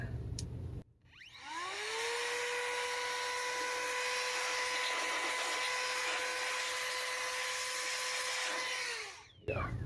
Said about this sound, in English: let me just blow this off real quick just to make sure we don't have any dust before I put this heat sink on